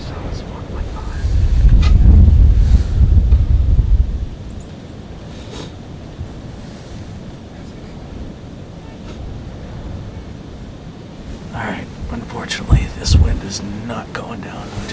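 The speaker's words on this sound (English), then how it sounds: "highest gusts we've had all day" Strong wind gusts buffet the microphone during a cold late-season deer hunt, with a heavy low roar swelling for a few seconds, then easing to a steadier rush with occasional sharp buffets.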